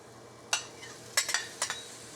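Tomatoes tipped into a frying pan of meatless chop suey, giving a few sharp clinks and scrapes of a utensil against the pan over a low, steady sizzle, with no voices.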